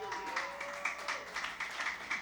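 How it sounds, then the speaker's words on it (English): A comedy club audience claps in a brief burst of quick, evenly spaced applause after a remark about a wedding anniversary, moderately close and unbroken by talk. "What are you clapping about?"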